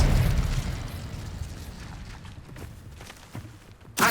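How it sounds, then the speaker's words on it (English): A disarming spell is cast in Hogwarts Legacy: a booming burst up front, then rumbling debris and scattered pops, and a sharp crack near the end. "Expelliarmus."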